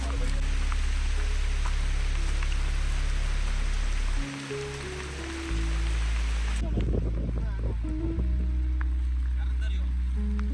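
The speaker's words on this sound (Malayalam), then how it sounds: "നല്ല മഴ ഉണ്ട്." Heavy monsoon rain in a thick forest on a road trip to Kudremukh pours steadily as a dense, continuous hiss, with a low engine-like drone beneath and a sharper burst of patter partway through.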